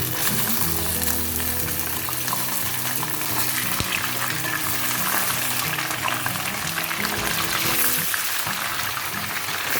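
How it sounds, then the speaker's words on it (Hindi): Chicken pieces fry in oil with browned onions for achari chicken, making a loud, continuous sizzle and bubbling, close up and unbroken, with no voices over it. "बघार लाल होने के बाद अब हम इसके अंदर डाल देंगे अपनी चिकन।"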